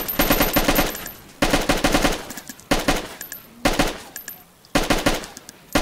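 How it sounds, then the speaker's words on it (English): Rapid automatic gunfire in a video game, fired at an enemy crossing a bridge, comes in about five loud, sharp bursts of roughly a second each, with brief pauses between them. "Well, shoot his ass."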